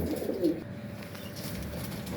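A pigeon coos once with a low, soft call early on, followed by quieter rustling and background sounds in a pigeon loft during vaccination.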